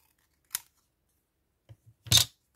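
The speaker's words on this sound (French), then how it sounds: "Comment je vais couper ça?" Scissors cut paper for a junk journal in a few short, crisp snips separated by pauses, close and fairly quiet, with a brief rustle between cuts.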